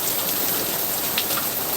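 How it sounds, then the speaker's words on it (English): Rain falls steadily in a garden during a thunderstorm, a close, unbroken hiss of drops heard from under an umbrella, with no thunder or voices in this short stretch. "I guess the umbrella is not giving me adequate coverage from this rain."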